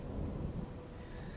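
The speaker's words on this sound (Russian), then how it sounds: "все так же идет поганый дождь" Steady rain with low thunder rumbling through a stormy outdoor scene in the video game Oblivion, a continuous dense wash of noise with no talking.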